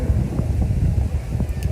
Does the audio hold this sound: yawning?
no